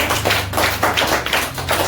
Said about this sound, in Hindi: जोरदार तालियां हो जाए आज के लिए, जोरदार, सब बच्चे हो जाइए, सब बच्चा जोरदार बजाइए